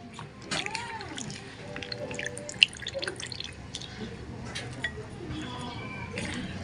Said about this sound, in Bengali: কাটা হয়ে গেছে, এখন ভালো করে ধুয়ে নিচ্ছি।